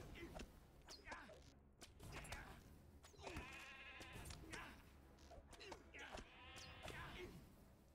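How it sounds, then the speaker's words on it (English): Sheep bleat in several loud, wavering calls close by, spread across the clip with short pauses between them, over a background of shuffling and scattered thumps. "Go, go forth, my sheep!"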